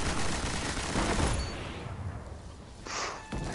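Shotgun blasts in Destiny hit as a dense, loud wash of noisy bursts that thin out midway, then another sharp report lands near the end among ongoing battle din.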